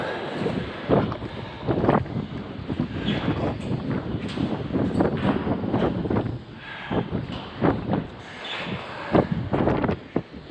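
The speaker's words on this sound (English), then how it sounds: "it's really windy here." Strong wind buffets the microphone outdoors at a campsite along the Ojos Negros Greenway, a loud continuous roar with rumbling gusts and rustling bursts throughout.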